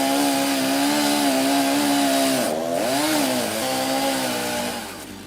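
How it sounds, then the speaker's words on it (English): A chainsaw, run from atop a ladder while cutting a tree, roars loudly and continuously, its engine pitch dipping and rising as it bears into wood, then easing off toward the end. "Chainsaw on a ladder"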